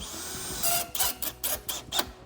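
Power drill driving bolts into a treadmill frame during assembly, a few short whirring bursts with brief pauses between them, close and fairly quiet.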